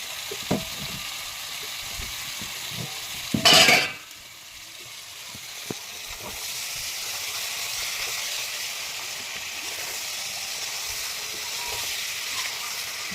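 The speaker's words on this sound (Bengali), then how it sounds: "এবার মাছটাকে কষাই করবে ভালো করে।" Tengra fish stir-fried with spices in a pan give a continuous hissing sizzle with scattered scraping stirs and one brief loud burst near the start, heard alone.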